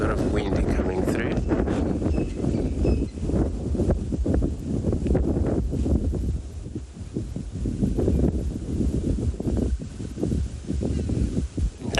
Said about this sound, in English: all you're hearing, it's a lot of wind coming through.